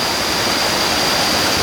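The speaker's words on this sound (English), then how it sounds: "And here I am at Tad Sae Falls." Tad Sae waterfall near Luang Prabang, Laos, roars as a steady, dense rush of falling water at the foot of the falls, loud and unbroken with no voices.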